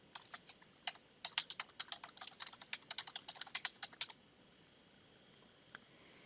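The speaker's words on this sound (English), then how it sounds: "So I'm just going to type first so you can see this" Quiet typing on a computer keyboard, with a steady run of light clicking keystrokes that quickens in the middle and then stops, leaving a few isolated taps near the end.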